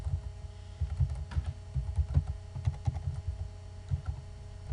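An email address being typed on a computer keyboard, with quiet, irregular clusters of soft key clicks over a low electrical hum, close and with no talk.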